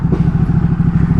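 A motorcycle engine running close by, loud and steady with a fast throbbing pulse and no rise in pitch, heard alone.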